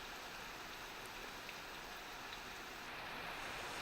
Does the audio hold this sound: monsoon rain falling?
yes